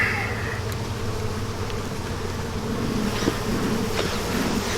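Dense, continuous buzzing of many honey bees inside an open hive box during an April-package hive inspection, loud and close throughout with a low droning hum.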